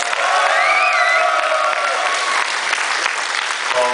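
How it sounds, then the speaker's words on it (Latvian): Loud, sustained audience applause with ovation at the closing ceremony of a film and art festival, dense clapping filling the whole stretch with a few whoops and faint voices mixed in. "Skaļi un ar ovācijām!"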